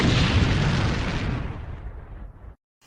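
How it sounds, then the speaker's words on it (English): A single loud, deep explosion booms up close and its rumble decays over about two and a half seconds before cutting to silence. "there's another explosion"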